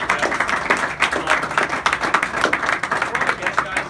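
Lively applause and clapping from a small audience, a busy patter of claps rising and falling for several seconds, with voices mingled in beneath it.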